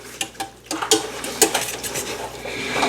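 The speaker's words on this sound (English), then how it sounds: "I'll take my little whirligig here, kind of break this up just a little bit, get that flour broke up" A small whisk breaking up flour in a bowl, quick metallic clinks and scraping strokes against the bowl in an uneven rhythm, close and alone with no voices.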